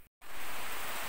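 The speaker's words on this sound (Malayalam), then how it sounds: "നല്ല മഴ പെയ്തുകൊണ്ടിരിക്കുകയാണ്." Heavy monsoon rain pours steadily on a morning in Kerala, a dense, even hiss that starts after a brief silent gap and then holds loud and close to the end.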